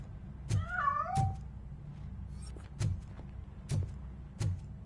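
In RoboCop: Rogue City, a cat escaping through a narrow passage gives a short wavering meow among a series of evenly spaced dull thumps and footsteps.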